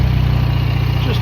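A motorbike engine, started with a flick key and needing no key fob, runs loud and close in a steady low throb, the idle pulsing evenly for a brief moment.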